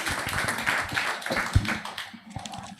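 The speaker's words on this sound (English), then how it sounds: "Let's give him a hand clap." Audience clapping for a speaker at a medtech hackathon, a brief burst of scattered, moderately close applause from a modest crowd, fading out near the end.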